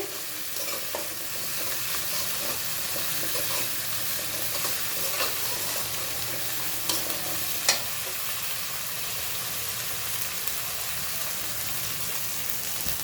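Spices with turmeric and chili frying in a pan with a little water for a vegetarian cabbage dish, a steady close sizzle with occasional stirring scrapes and a sharp tap, no talk.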